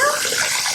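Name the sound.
live crab put into water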